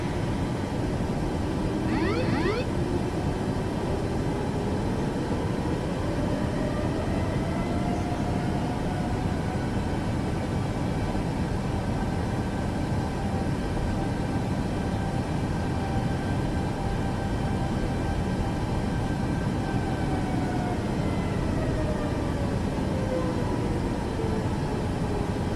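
A Boeing 737 Max in MSFS 2024 rolls to a stop on the runway after an instrument landing: a steady, loud roar of engines and rolling, with faint whining tones that slowly glide, and no talking.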